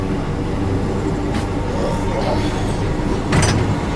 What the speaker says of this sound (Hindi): 2 मिनट के स्टॉप के बाद में अपनी ट्रेन निकल चुकी है भरवारी रेलवे स्टेशन से भी